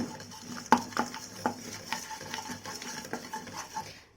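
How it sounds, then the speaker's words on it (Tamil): Spices for Chettinad chicken masala powder dry roasting in a pan over a low flame, with a spoon stirring and scraping in light irregular clinks over a faint steady background. "இந்த பாருங்கள் நல்ல லோ ஃப்ளேமில் கலர் கொஞ்சம் சேஞ்ச் ஆக போது எடுத்துடலாம்"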